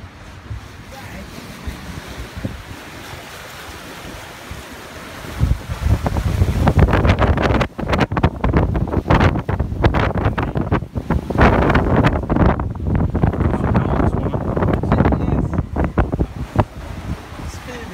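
Sailing catamaran running fast on an overnight passage from Raivavae to Tubuai, making a loud, steady rush of surf and wind buffeting that surges in after a quieter opening and continues without a break.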